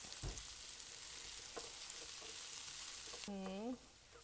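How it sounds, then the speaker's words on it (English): Onions and garlic browning in a pan for a Salisbury steak sauce, a constant soft sizzle with faint stirring taps, cut off by a short high whine near the end. "We're just going to brown these onions and garlic until they're nice and caramelized as the base of our sauce"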